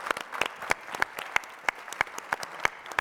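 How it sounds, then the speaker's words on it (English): A conference plenary audience applauds the last speaker with scattered, distinct claps in a loose, uneven rhythm, sounding like a modest crowd in a hall rather than a dense roar. "I don't even need to introduce you for you to get a round of applause"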